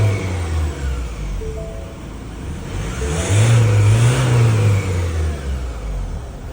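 Engine of a Ford Raptor truck running and revving during a start-up test, a steady idle swelling into a louder rev midway, heard close with no talk.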